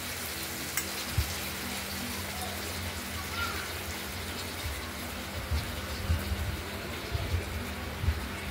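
Mustard, poppy seed and green chili paste frying in hot oil, a soft continuous sizzle and bubbling with occasional low bumps, fairly quiet and close, no speech.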